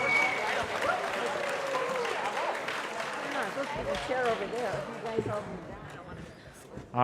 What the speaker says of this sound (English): give a big round of applause for Mike Block String Camp